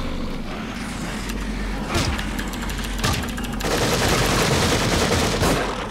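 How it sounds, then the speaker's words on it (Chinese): Gunfire from the horror video game The Evil Within, with loud bursts of shots and impacts over rumbling game ambience, dense and continuous through the stretch. "不要乱开枪好吗？"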